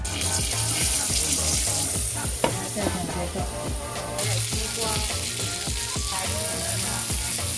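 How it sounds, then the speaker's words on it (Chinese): Pork shengjian buns pan-fry in a home kitchen with a continuous loud sizzle, punctuated by scraping and clattering as they are moved in the pan, with no talking. "这两盘包子我就包好了， 现在开始下锅。"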